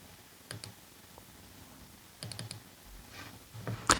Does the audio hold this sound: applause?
no